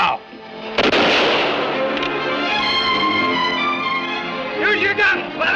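Musket and rifle volleys in a frontier battle scene, several sharp cracks near the start followed by a sustained booming roar under loud music, with further shots toward the end.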